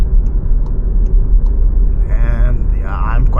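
A 2018 Skoda Octavia 1.4 TSI driving through light city traffic. A steady, close engine and road rumble fills the cabin, and someone talks over it partway through.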